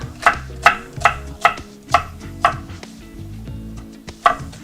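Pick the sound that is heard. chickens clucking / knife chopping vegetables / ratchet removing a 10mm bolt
knife chopping vegetables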